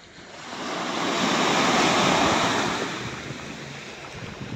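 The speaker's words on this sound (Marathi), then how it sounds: "हे बघा लाट." Ocean waves at Girgaon Chowpatty beach in Mumbai surge in a single broad swell that builds, crests and slowly recedes into a steady wash, with wind buffeting the microphone and no voices.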